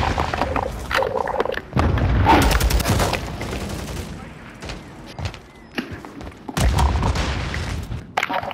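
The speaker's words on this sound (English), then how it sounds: "Grenade out." A grenade explodes in a Call of Duty team deathmatch on the Highrise map, a heavy boom with a thudding burst, surrounded by rapid gunfire and further blasts, with brief radio-style voice callouts.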